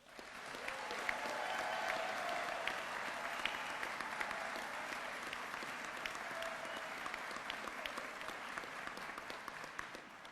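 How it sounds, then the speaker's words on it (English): Sustained applause from a large audience at a New York City Sanitation graduation ceremony, steady and dense for about ten seconds, with occasional cheers rising out of the clapping. "let's give the biggest round of applause for the sanitation class of July's 2025"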